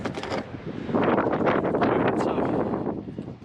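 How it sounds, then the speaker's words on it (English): Strong wind of about 20 miles an hour buffets the microphone in loud, rumbling gusts, a continuous roaring rush with no voices. "I apologize for the wind. It's howling. It's like 20 miles an hour."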